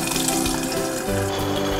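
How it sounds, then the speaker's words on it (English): Water streams steadily from a kitchen tap in a noisy, continuous gush, heard alone and fairly loud while a quinoa salad with lime juice is being prepared. "we'll just stream in a touch of water"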